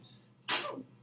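One abrupt sneeze, close and loud, a short explosive burst that fades within half a second against a quiet room.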